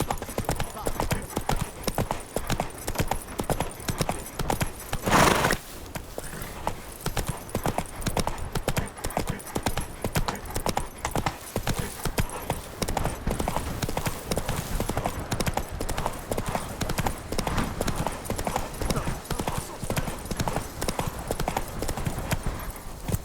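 Horse galloping in The Witcher 3 video game, a continuous fast rhythmic clip-clop of hooves on the ground with a brief whinny early on, steady and close throughout.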